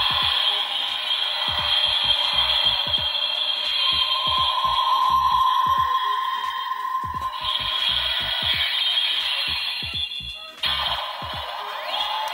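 Synthetic electronic chimes and tones from a bootleg DX Ultraman Tiga Spark Lens transformation toy, a sustained bright buzzing sequence with clicks, lasting most of the span before a brief cut and restart.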